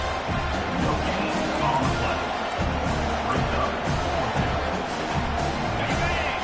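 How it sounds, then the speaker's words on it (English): A TCU college football stadium crowd roars loudly and continuously on fourth down, a thick sustained wall of cheering and noise with commentary voices mixed in. "This crowd busting the decibel meter and trying to will a fourth down stop."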